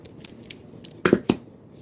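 Snips cut through a large Apocalypse Scorpion × Chocolate Primotalii F1 pepper plant: two or three quick, crisp, close snips in a cluster, with faint rustling before them.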